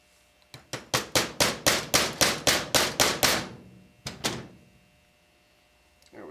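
Roughly a dozen sharp, evenly spaced hammer blows drive a pin through a .25 ACP ADC pen gun during repair, loud and close, followed after a pause by two more strikes.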